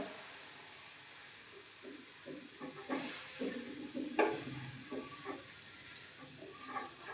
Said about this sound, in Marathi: हलव्यामध्ये दूध टाकून घ्यायचं हलवून घ्यायचं